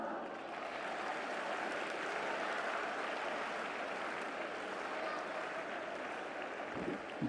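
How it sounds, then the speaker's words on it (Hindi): Sustained crowd applause from an audience at an Indian Independence 75th anniversary celebration, dense and steady throughout with a broad hiss-like texture, carrying on without a break. "तालियों के साथ।"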